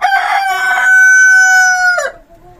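A rooster in a backyard chicken cage lets out one loud, close, drawn-out crow that holds steady and then cuts off, followed by quiet.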